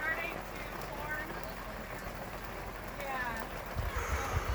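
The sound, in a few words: rain falling on a campsite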